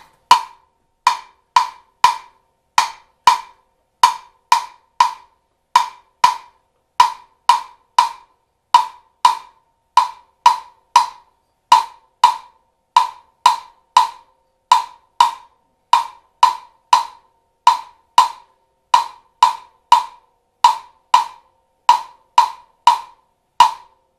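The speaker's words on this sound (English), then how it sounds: "Okay, so there's a basic 6/8 clave." Wooden claves click out a 6/8 clave pattern for an Afro-Cuban bembe, crisp, sharp strikes repeating in an even cycling rhythm, loud and alone.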